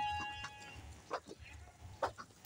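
Sheep and lambs on an Indonesian farm, with a couple of loud bleats standing out over steady barnyard background noise, plus a faint tonal hum throughout.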